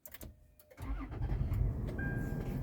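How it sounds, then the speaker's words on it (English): A 2010 Toyota Land Cruiser Prado TXL's 4-litre V6 is started with a push button: a short starter whir, then the engine catches and settles into a steady, close idle. "the 4-litre V6 engine nicely comes into life"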